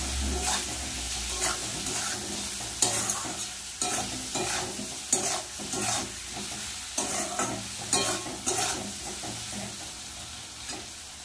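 Chilli powder, turmeric and salt sautéing in a pan sizzle continuously beneath a rhythmic series of about a dozen firm spatula scrapes and stirs, close and fairly loud, with no talking.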